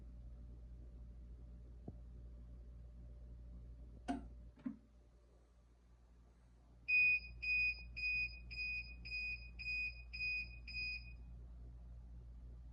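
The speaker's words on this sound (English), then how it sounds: "I can give it a little piezo test if I hold it." An emergency lighting unit's piezo alarm sounds a sharp test beep several times in an even rhythm, clear and close over a quiet room hum, after a few soft clicks.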